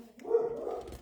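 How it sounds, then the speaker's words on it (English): A dog gives one short, fairly loud bark indoors from a little distance, on its own without any voices. "sorry about my dog, a lot of walkers in the neighborhood."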